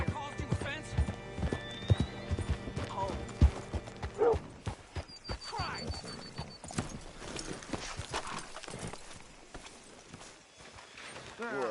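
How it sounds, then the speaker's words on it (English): Hooves clip-clop in a steady rhythm close by in Red Dead Redemption 2, with a horse whinnying and people talking over the clopping. "Get your horse up here."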